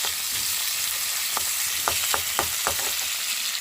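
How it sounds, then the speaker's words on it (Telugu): Green chillies and tomatoes frying in oil in a pan, a continuous close bright sizzle with a few scraping stirs breaking through, and no talking. "ఇప్పుడైతే పచ్చిమిర్చి టమాటా కూడా ఫ్రై చేసేసుకుంటున్నాను ఆయిల్లో"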